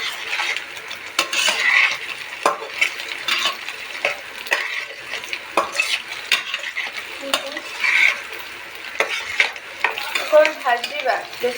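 Paneer for a pointed gourd kurma fries in hot oil while a utensil stirs and scrapes the pan, giving a steady close sizzle broken by repeated clinks and scrapes, with no talking.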